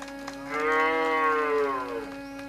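A boy imitates a cow with a single long, drawn-out moo that rises and falls. It rings out clearly against a quiet background.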